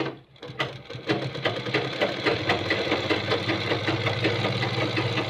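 An electric sewing machine runs steadily and loud, stitching the back panel onto a kurta, its fast mechanical whirr and rhythmic needle knocking continuing without pause after a brief quiet start.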